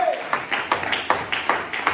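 A church congregation claps in steady unison, a regular beat of about two claps per second, moderately loud and close.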